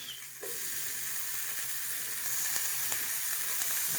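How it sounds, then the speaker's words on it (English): Bacon sizzles steadily in a cast iron pan, a loud continuous frying hiss that swells slightly after a brief start and holds alone without talk. "we're going to get our bacon in this cast iron"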